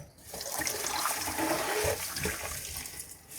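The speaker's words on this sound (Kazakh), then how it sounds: "Яғни судың бәрі кетіп жатыр." Water draining away as animal lungs are rinsed clean of blood, a continuous gushing, splashing flow that swells and then eases, close by and with no talking.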